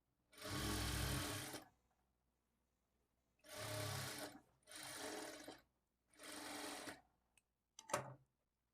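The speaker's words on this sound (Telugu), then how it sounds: "చివరి వరకు కూడా ఇదే విధంగా క్లాత్ని ఇలా లాగుతూ స్టిచ్ చేసుకోవాలి" A sewing machine stitches thread piping onto cloth in four separate bursts of fast whirring, loud and close, with short quiet gaps between them and a brief final spurt.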